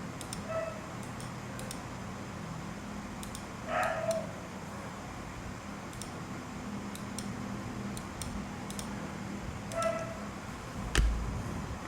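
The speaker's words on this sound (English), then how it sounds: "My dog is going crazy" A dog barks in short, faint bursts at a distance, three separate spaced outbursts over a quiet room with steady light ticking.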